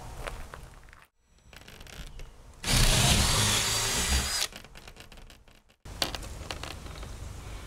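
A drill bit boring through a wooden shed door, a steady loud whir of about two seconds in the middle, with quieter handling clatter before and after.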